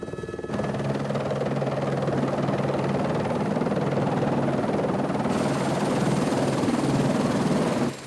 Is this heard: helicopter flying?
yes